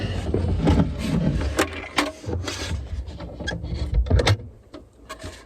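A camper table lifting out of its mount in a Mazda CX-5 conversion, with close scraping, rubbing and knocking of wood and metal parts and a few sharp clicks, uneven and handled up close.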